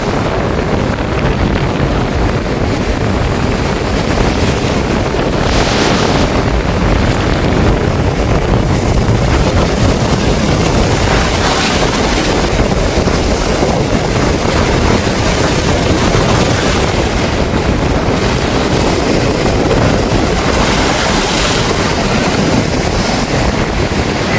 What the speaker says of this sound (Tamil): காற்றுடைய போக அலைங்கள் எல்லாம் அந்த ஆக்ரோஷமாக வருது பாருங்க